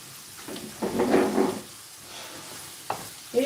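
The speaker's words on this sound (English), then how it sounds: "Just keep an eye on it and keep stirring." Sausage stroganoff being stirred in a pan, with a soft sizzle and a short burst of spoon scraping, then quieter frying and a couple of brief clinks, close and fairly faint.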